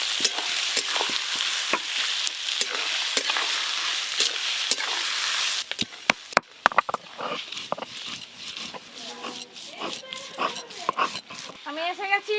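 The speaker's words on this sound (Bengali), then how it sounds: "আমার পেঁয়াজটা ভাজা হয়ে যাবে" Chopped onions fry in a pan with whole garam masala, bay leaves and dried chillies, a steady close sizzle with clattering stirs and dishware knocks, then a dog whimpers and people talk over the quieter cooking noise.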